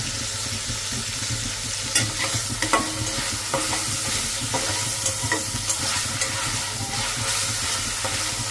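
Broiler chicken sizzles and hisses in a hot pan as it is stirred into a dry bhuna, with a steady frying roar punctuated by scraping spatula strokes and small clanks.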